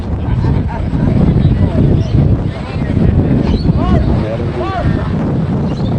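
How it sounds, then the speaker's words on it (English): Wind blows hard across the microphone with a constant rumbling roar at a rugby league semi-final, while the referee's distant voice is barely audible beneath it. "it's a bit too windy today"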